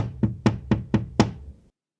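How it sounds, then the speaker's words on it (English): Five sharp knocks on a door in an even, steady rhythm, each one a crisp rap, close and moderately loud, with nothing else around them and silence after the last knock. "tapped on her door with his wings"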